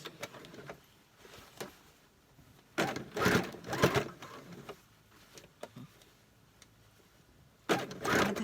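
A sewing machine stitches the waistband of a pair of trousers in two or three bursts of close whirring, with quieter handling and rustling of fabric between them and no talking.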